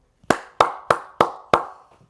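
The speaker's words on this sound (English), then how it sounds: "He gets a round of applause for that as well." A single person claps five times at an even pace for a football player, each clap sharp, close and loud in otherwise quiet surroundings.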